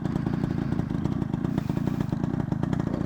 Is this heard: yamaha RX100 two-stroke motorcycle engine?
yes